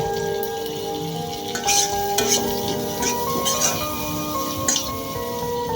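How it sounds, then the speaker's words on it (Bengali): Chopped onions and chilies fry in a pan for a fish bharta, with a steady sizzle broken by scraping stirs and clicks from the spatula. A faint tonal hum sits underneath. "সান্দা মাছ ভর্তা করার জন্য যে পেঁয়াজ মরিচ কেটে রাখছিলাম ওইগুলো এখন ভাজে নেব"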